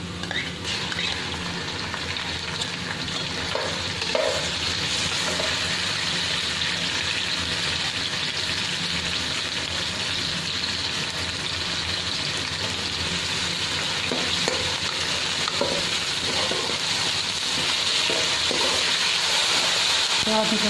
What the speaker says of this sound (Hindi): प्याज को फ्राई करेंगे